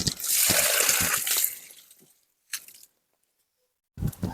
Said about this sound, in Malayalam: അപ്പം മാങ്ങ കഴുകി വൃത്തിയാക്കിയിട്ടുണ്ട്